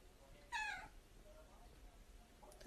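A cat gives a clear meow, then after a pause starts another short meow at the end, against quiet background noise.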